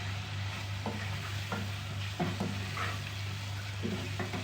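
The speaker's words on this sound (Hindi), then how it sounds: "ये प्याज भी माशाल्लाह से इसमें मिक्स हो रही है, घुल रही है और गोश्त भी हमारा अच्छे से भुन रहा है" Mutton and onions fry in a pot for dal gosht, a low steady sizzle with a constant background hum, punctuated by a few soft scrapes of stirring.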